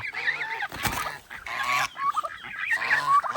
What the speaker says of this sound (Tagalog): Ayan yung mga gansa saka pabo.